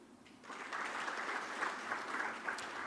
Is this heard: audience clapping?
yes